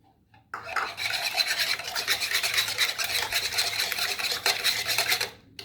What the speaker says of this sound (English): Whisk your eggs up.